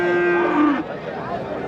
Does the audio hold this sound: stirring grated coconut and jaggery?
no